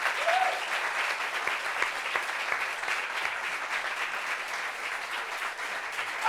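A studio audience on a talk show set applauds steadily and fairly loudly throughout, a dense continuous patter of clapping that holds level without pause.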